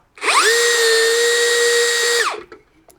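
A power tool spins up and cuts through M8 threaded rod studding in one steady, high-pitched whining pass of about two seconds, then winds down with a few faint clicks afterward.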